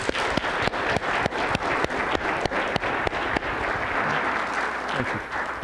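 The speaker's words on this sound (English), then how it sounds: "Let's give them a big round of applause for them." Audience applause at a regional economic development summit education panel, a steady crowd clapping with a few sharp distinct claps standing out at a regular beat, moderately loud and sustained.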